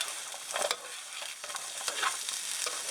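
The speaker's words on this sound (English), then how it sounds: "this is going to be our tomato sauce for the pizza. This stuff is sauteing" Tomato pizza sauce sautéing in a pan, a continuous soft sizzle with repeated stirring scrapes and bubbling pops, fairly quiet and close, with no voices.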